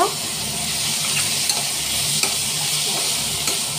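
Boiled fourteen greens (chodda shaak) stirred in a hot pan, a continuous close sizzle and hiss with soft scraping strokes of the spatula at a steady pace, no voices.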